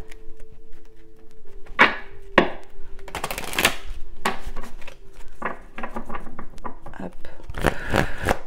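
Oracle cards shuffled by hand for a reading, a run of crisp riffling and slapping bursts at irregular intervals, close up, with someone talking over them.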